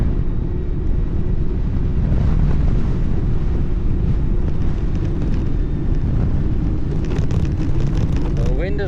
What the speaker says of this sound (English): The wind is now directly in my face. Don't know if you can hear that.